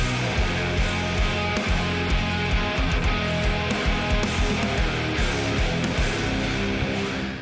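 Chapman ML3 BEA electric guitar in Black Smoke finish plays a dense, driven passage with rapid rhythmic picking and sustained tones, loud and steady with no talking.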